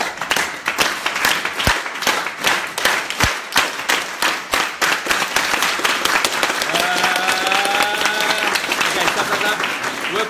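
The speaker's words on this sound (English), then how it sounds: "Clap with me now." A group claps in unison during a Kabbalistic meditation session in Jerusalem, sharp rhythmic claps at a steady beat for about five seconds, then a looser spread of applause while a voice speaks over it.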